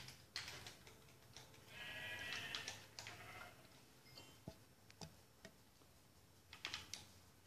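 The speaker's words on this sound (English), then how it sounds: "Hey, sheep." Sheep bleating in the Minecraft video game, a couple of short nasal bleats mixed with quick clicking taps, fairly faint and close, with no talking.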